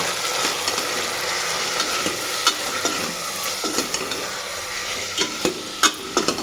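Fenugreek greens with turmeric and salt are stirred in a hot pan, giving a loud, continuous sizzle punctuated by irregular scraping and tapping strokes of the spatula.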